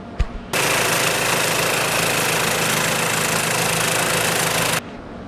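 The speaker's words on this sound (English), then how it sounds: "Cut to me snow blowing." A snow blower engine runs steadily at a loud, constant level for about four seconds after a brief start, a droning idle with a strong low hum and broad mechanical noise, then cuts off abruptly.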